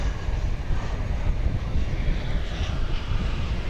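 Boeing 757 airliner at night at Dallas Fort Worth airport, a steady broad jet engine roar, fairly distant and even throughout, with low rumble and no voices.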